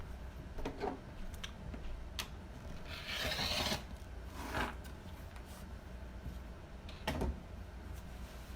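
Rotary cutter slicing 3-inch fabric border strips for a sewn Halloween pillow, heard as a few short close scraping rasps and one longer cut over quiet background.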